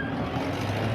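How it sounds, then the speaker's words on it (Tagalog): Traffic noise near a market street, a continuous low rumble of passing cars and motor vehicles close by, steady and unbroken for a second with no talk. "Ingay ng mga sasakyan."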